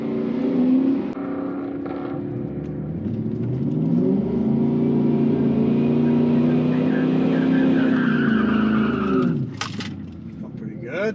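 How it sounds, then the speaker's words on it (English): An Infiniti Q45 doing a burnout at a track, engine droning steadily and rising under sustained load for about nine seconds before cutting off, loud and close, with a brief sharp noise near the end. "I always do a burnout right here before they tell me"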